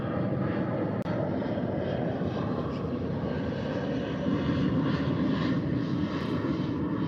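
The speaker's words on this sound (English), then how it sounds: "the airplane, guys." A propeller airplane flies overhead, a steady loud broadband engine drone that fills the whole clip with a slight swell toward the end and no speech.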